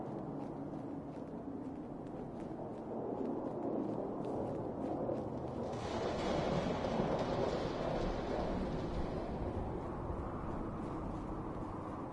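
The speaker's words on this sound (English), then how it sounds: "rad storm rolling in" Rad storm thunder in the Fallout 4 video game: a low rumbling roar that swells around the middle and then holds steady as a continuous broad wash, with no voices.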